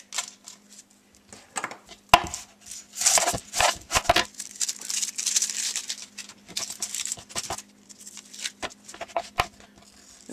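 A knife cuts onions on a board in irregular bursts of crisp taps and slicing scrapes, close up, with a low steady hum behind and no talking.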